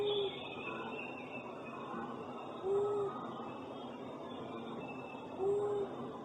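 A recorded short-eared owl bark call, three brief rising barks spaced a few seconds apart, faint and distant over a steady hiss of background noise.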